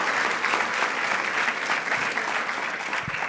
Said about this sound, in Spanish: Dele ese fuerte aplauso al Rey de Reyes.